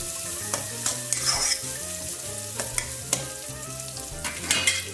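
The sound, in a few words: onions frying in a pan for mutton biryani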